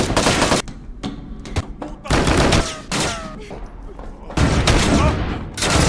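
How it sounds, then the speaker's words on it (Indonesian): Rapid film gunfire sprays at a fleeing woman, heard as dense bursts of shots mixed with impacts and other action sounds, loud and close. "Dita diberondong peluru sambil terus kabur."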